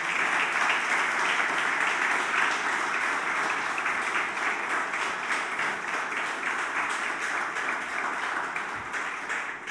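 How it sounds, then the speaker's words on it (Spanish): A church congregation applauds during a worship service, a dense and steady wash of clapping that holds for about ten seconds and fades slightly toward the end. "¿Por qué no le das tu mejor aplauso al Señor?"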